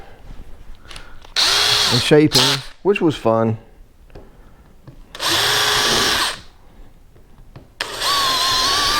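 A power drill bores into a homemade 10 ft styrofoam fishing kayak in three loud whirring bursts, each a few seconds long, with someone talking in the gaps between them.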